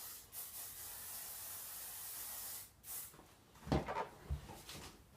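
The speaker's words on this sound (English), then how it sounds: "I'm going to flip my hair upside down and spray this on it" Hairspray hisses out of a can onto hair flipped upside down in one long steady spray, then a short pause, a second burst and some soft handling clatter.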